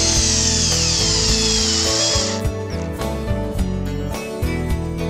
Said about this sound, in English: when driving screws into wood